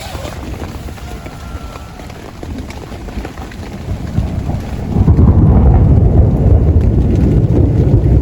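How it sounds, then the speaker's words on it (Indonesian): Thunder rolls during a heavy rainstorm at a campsite, a deep rumble that swells and grows louder partway through over the steady hiss of rain. "Geluduk-geluduk kilap-kilap."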